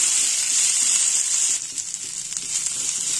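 Drumstick leaves fry on a low flame in a steady, close, hissing sizzle that holds without pause and eases slightly partway through, with faint stirring underneath.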